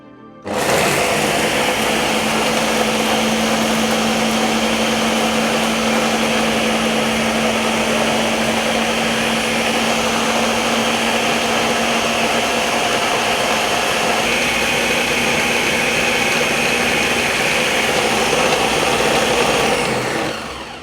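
A kitchen blender grinding peanuts into homemade peanut butter: a loud, continuous motor roar starting abruptly and running steadily for about twenty seconds with a gritty grinding texture, no talk.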